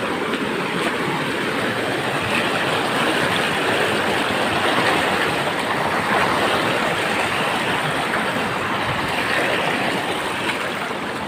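Steady rushing of a flowing stream at a simple river bathing spot in Aurora, a dense continuous wash of water close by with no break or rhythm.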